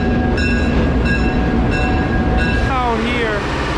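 An old-style passenger train rolls through the American South, a steady loud rumble of rail travel with faint squealing tones from the wheels, held evenly throughout with a voice briefly murmuring underneath.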